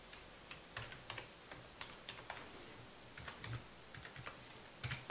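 Password keys tapped on a computer keyboard during Intel CPU overclocking work, a quiet, irregular run of light clicks spread across the clip with no talking.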